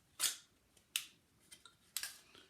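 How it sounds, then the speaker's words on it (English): Sharp, crisp snips from a pair of scissors cutting a small disc for homemade percussion caps come as several quick, close, isolated clicks over a quiet background. "if it's won't cut through, then you take a pair of scissors"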